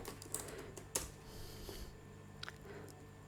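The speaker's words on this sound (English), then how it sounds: "So just typing npx sequelize cli" Soft, sparse key taps on a computer keyboard while a command is entered, a few faint clicks against a quiet background hiss.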